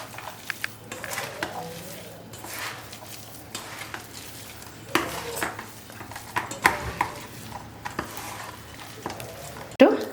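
Chana dal vada batter with curry leaves being mixed by hand in a bowl, wet squelching and soft slapping strokes at an uneven rhythm, with occasional clinks against the vessel, close and moderately loud.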